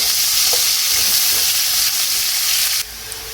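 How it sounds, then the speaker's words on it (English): Onions frying in a hot pan for a chicken stir fry, a loud, dense, continuous sizzle close up that drops sharply in volume near the end, with no voices. "and then we go in with our onions. We cook this until they are translucent."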